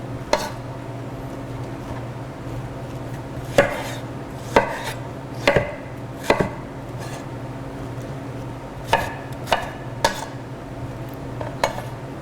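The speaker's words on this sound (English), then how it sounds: "You're pretty handy with a knife, Jen." A knife chops vegetables on a cutting board in a kitchen cooking show, with sharp, irregular knocks spaced through the clip over a steady low room hum.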